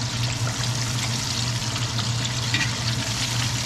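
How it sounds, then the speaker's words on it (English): Breaded chicken thighs fry in a pan with a continuous, even sizzle and crackle, heard close and alone without talk. "You see, I got some good frying action going on and the breading is staying on."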